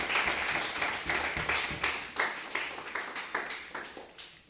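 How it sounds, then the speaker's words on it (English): Audience clapping at a memorial birthday gathering for a late mentor, a short burst of dense applause that tapers off within a few seconds. "Have a round of applause for everyone."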